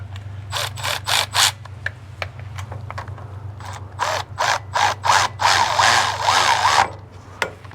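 A ratchet fitted with a 13 mm socket tightens the bolts on an ARB differential cover, clicking in quick close bursts of strokes with short pauses between, over a steady low background hum.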